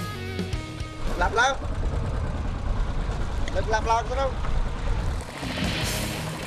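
Small fishing boat engine running steadily as it shifts position against the wind off the coast at Kep, Cambodia, a constant low drone with a voice speaking over it.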